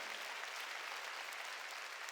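Church congregation at a Wednesday worship service claps steadily together, a dense, even wash of applause filling the whole stretch at moderate distance.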